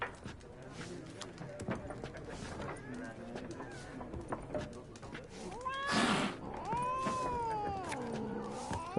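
A cat meows in The Witcher 3, drawn-out harmonic calls rising and falling near the end, mixed with in-game ambience, footsteps or hoof clops, and a voice talking over it.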